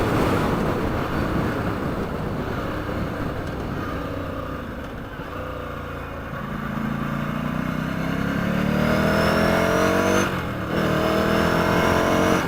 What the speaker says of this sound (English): This bike sounds pretty good too.